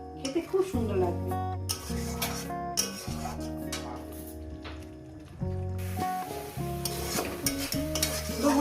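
Bata fish in poppy seed paste is stir-fried in a pan, with a low sizzle and repeated scraping and squishing strokes of a spatula, nearby and moderately loud, while a person talks in the background.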